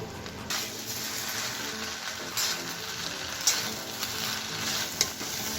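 Cracked wheat and sugar are stirred and fried over a high flame, giving a dense, steady sizzle close up. Occasional sharp clicks come from the spatula against the pan.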